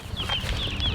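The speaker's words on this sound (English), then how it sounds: "Chickens are here." Newly arrived chicks from McMurray Hatchery peep in quick, high, slightly falling notes, several calls in about a second, close and clear over a low rumbling background.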